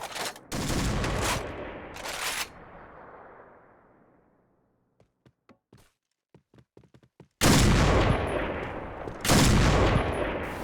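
Gunfire crackles in a PUBG-style shooter: heavy automatic bursts open the scene, fade into a run of sparse, sharp single shots, then erupt again in two loud, sustained volleys.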